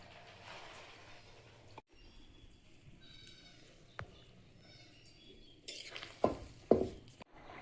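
Fish, bori lentil dumplings, fish roe and slit green chillies stirred into a simmering gravy in a pan: soft, steady scraping and bubbling, ending in a few louder clattering strokes, with no talk.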